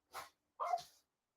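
A dog barks twice in quick, short yaps at a moderate distance, with silence between and after, indoors during a home livestream.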